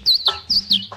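Sparrows give four quick, bright chirps in a row, close and clear with short gaps between calls.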